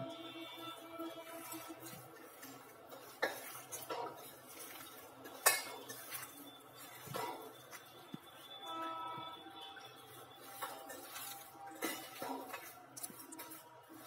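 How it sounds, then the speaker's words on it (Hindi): Boiled potato and soybean are mashed and mixed in a bowl for kofta, with a utensil scraping and clinking against the bowl in irregular knocks and stirring scrapes, fairly quiet with a faint voice in the background. "मैं इसे पहले अच्छे से मैश करके दोनों को मिक्स कर लूंगी।"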